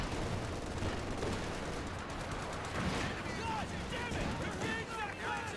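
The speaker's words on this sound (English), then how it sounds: "Constant harassing fire." Battle noise from a Company of Heroes 2 match: steady gunfire and artillery harassing fire rumble at a distance under a continuous commentator's voice.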